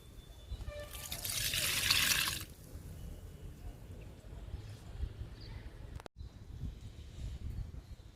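Liquid fertilizer poured onto summer fruit plants, a bright splashing pour lasting about a second and a half near the start, followed by quieter trickling and dripping under outdoor background noise.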